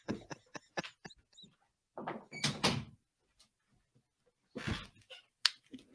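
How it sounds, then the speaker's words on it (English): A door is shut indoors amid a series of sharp knocks, clicks and thuds, with bursts of handling noise between quiet gaps. "hold on, I gotta close the door again"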